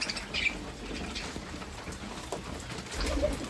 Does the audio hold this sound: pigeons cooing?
yes